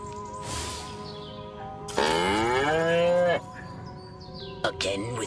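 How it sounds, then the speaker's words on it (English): A cow moos in the video game Destroy All Humans!, with one long, loud, drawn-out moo in the middle, a shorter call near the start and a few metallic clanks near the end. "Again with the moo?"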